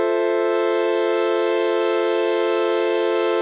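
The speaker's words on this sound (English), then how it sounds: "let's take a listen to what that sounds like when I adjust the crossfade." Audio frozen and looped by the I Wish plugin with its crossfade being adjusted: a steady, bright, sustained tonal drone rich in overtones holds unbroken and loud throughout.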